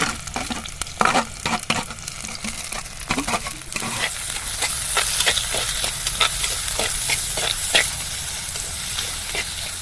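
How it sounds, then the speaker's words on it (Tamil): Onions, green chili and curry leaves with fennel seeds frying in hot oil for a village-style egg masala gravy, a steady close sizzle with scraping stirs throughout, no talking. "வெங்காயம் போட்டுக்கலாம். பச்சை மிளகா, கருவேப்பிலை எல்லாத்தையும் போட்டு தாளிச்சிக்கலாம்."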